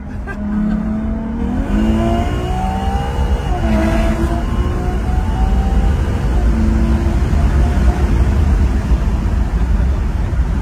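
A sports car engine revs hard with its exhaust valves open, the pitch swooping up and down through several throttle blips. It is close and loud, and a steady rumble sits underneath.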